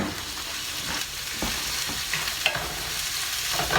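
Onions sauté in a pan for a paleo chicken enchilada lasagna, giving a steady close sizzle with occasional stirring scrapes and clicks throughout, no voices.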